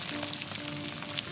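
Egg frying in a hot pan, a dense continuous sizzle with faint crackles throughout, close and steady.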